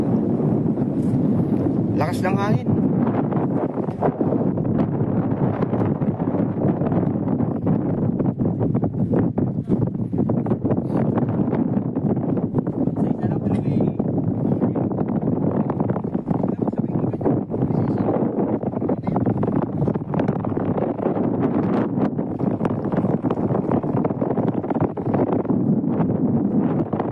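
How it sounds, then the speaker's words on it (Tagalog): Strong wind roars steadily into the microphone throughout while fishing in Hualien, Taiwan, a constant buffeting rush with faint voices buried underneath. "Lakas ng hangin."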